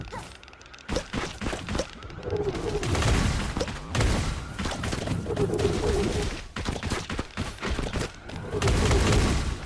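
Rapid enemy gunfire in the video game Brew, a dense fusillade of thudding shots coming in repeated bursts with brief gaps, loud and close over game sounds.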